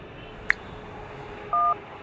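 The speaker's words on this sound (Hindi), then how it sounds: "चलो अभी हम फोन करके पूछ लेते हैं।" A single short beep followed by a steady two-tone dialing tone held for about a quarter second, clear over faint room hiss.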